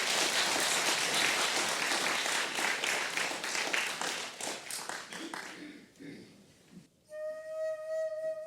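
Audience clapping at a Korean traditional music concert, a dense burst of applause that thins out and fades after about six seconds, followed by a sustained instrumental tone.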